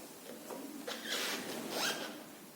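Electrical tape being torn off the roll to cover a motorcycle helmet visor, with two rasping, zipper-like pulls close up and a few quieter scratches before them.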